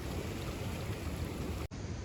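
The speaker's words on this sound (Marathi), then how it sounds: "आज जरा पाऊस प्रॉपर बसलाय चांगला सकाळपासून नुसता धोधो पडतोय" Heavy monsoon rain pours steadily on the Konkan coast near a beach, a dense, even roar that stays loud throughout apart from a brief break near the end.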